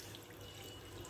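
Faint running water pours steadily into a pressure cooker, a quiet continuous splashing stream with no voices.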